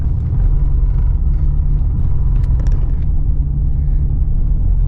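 A vehicle drives over a bumpy road in Ukraine, giving a steady, loud low rumble throughout with a few faint rattles from inside.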